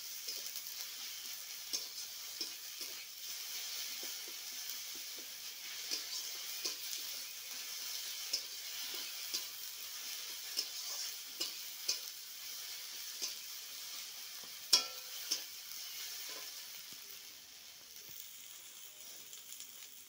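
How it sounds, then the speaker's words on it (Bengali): Spice paste frying in a little oil in a pan while being stirred, a soft continuous sizzle with frequent light scraping ticks from the utensil, fairly faint and with no voices. "এবার আমি ভালো করে মশলাটা কষিয়ে নিচ্ছি।"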